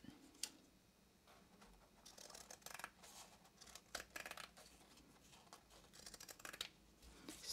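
Scissors trim cross stitch fabric into a rough circle around an embroidery hoop, giving a close, quiet series of irregular snipping and crisp cutting clicks with faint fabric rustle between cuts.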